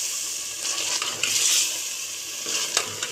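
Chicken curry with ground coriander and spices being stirred in a hot pan, with soft continuous sizzling and occasional scraping clicks of a spoon against metal, close and alone.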